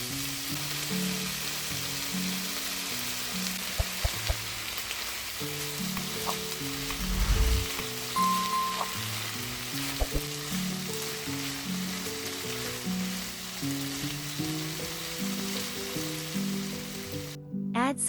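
Chicken and vegetables frying in a pan, a steady close sizzle with occasional stirring clinks and knocks throughout, with low background music playing underneath.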